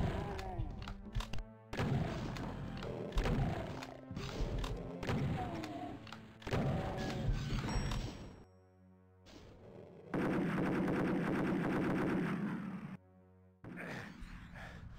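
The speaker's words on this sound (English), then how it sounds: "Come on, blow up the barrel." Shots and explosions from a Doom II level, including a shotgun and an exploding barrel, come as a burst of loud booms and blasts followed by a sustained roar, with quieter gaps between them.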